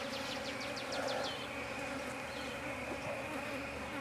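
Honey bees buzz around an open hive of brood frames in Jacksonville, Florida, a dense, continuous droning hum close by, with a few individual bees whizzing past near the start.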